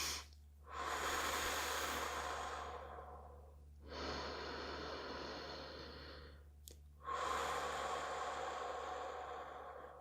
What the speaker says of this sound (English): even this, my breathing, I don't do a good enough job of breathing in fully.